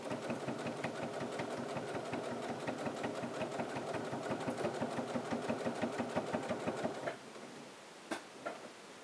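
A domestic sewing machine stitches forward along a piped pocket, its needle clattering in a fast steady rhythm for about seven seconds before stopping, followed by a few faint clicks.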